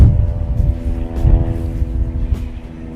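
A propeller airplane drones overhead near a building site, giving a steady harmonic hum that swells and fades slightly over a few seconds, fairly loud and alone without talk.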